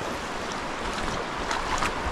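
Fast-moving water of Pine Creek, Pennsylvania rushes in a steady, broadband wash with some wind buffeting, loud and continuous.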